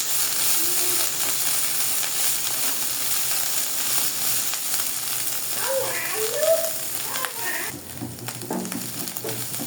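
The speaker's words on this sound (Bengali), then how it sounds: "রসুন দিয়ে আমি আরেকটু ভেজে নিব।" Dried prawns fry with garlic in a pan, giving a steady sizzling hiss with occasional stirring scrapes, fairly close, under some soft background talk.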